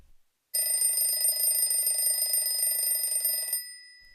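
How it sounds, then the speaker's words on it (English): An alarm clock rings continuously for about three seconds, a loud, steady electronic bell tone with bright sustained overtones, starting abruptly and cutting off cleanly, alone in an otherwise quiet room in the morning. "The alarm goes off, but James is already up."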